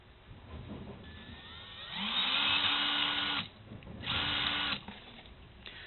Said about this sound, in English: And then we'll go ahead and drill out the other side.